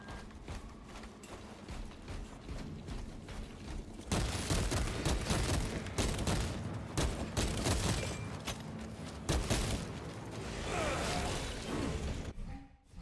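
Gunfire and melee combat in the video game Space Marine 2, a dense stretch of rapid shots, crashes and clattering mechanical noise that swells loudly midway and stays busy throughout.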